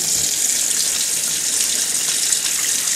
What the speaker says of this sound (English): The water drains down really well